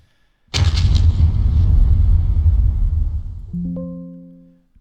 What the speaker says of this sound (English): Mortar fire is not very precise